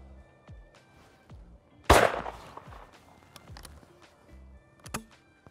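A single loud, sharp shotgun blast from a Beretta Ultraleggero at clay shooting, standing out clearly against quiet outdoor ambience, followed by a few faint clicks and a smaller knock near the end.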